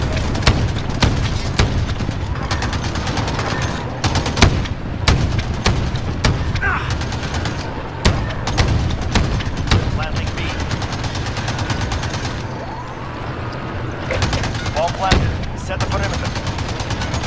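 Dense, loud gunfire from a Modern Warfare match, with rapid automatic bursts and sharp booming shots repeating throughout, briefly easing before resuming, while a player talks over the action.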